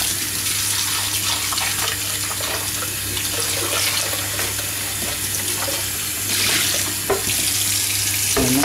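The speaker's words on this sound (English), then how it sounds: "give it a rinse" A running tap pours steadily into a sink while a part of a Vax OnePwr Cordless Glide floor cleaner is rinsed beneath it, a loud continuous splash with brief shifts as the part moves under the stream.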